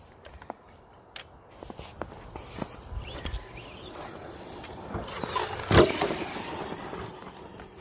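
A Kyosho MK-2 Mad Van RC car drives through snow with a hot motor, its scattered crunching, thumping bursts and a brief rising whine over a steady low rumble, fairly close.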